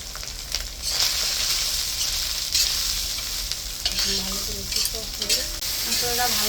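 Ginger paste, cumin paste and turmeric powder fry for a katla fish curry, a loud, steady sizzle with the scrape of stirring and a few faint background voices near the end.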